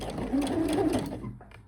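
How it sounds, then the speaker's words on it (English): A sewing machine runs a straight basting stitch at 5 mm to hold lingerie fabric before serging, giving a short, fast, steady mechanical whirr that winds down at the end. "It's just a straight stitch on the sewing machine to hold the fabric before using the serger."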